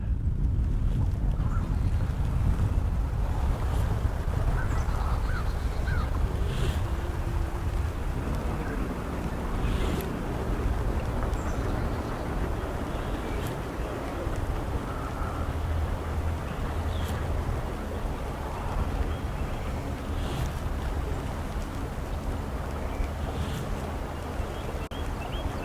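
Steady wind roars across an open boat on the water during a day of fishing, a continuous low rumble of microphone buffeting with a few faint knocks and creaks, no talking.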